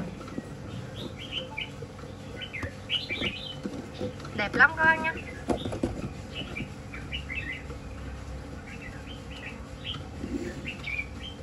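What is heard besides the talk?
male Chinese hwamei songbird singing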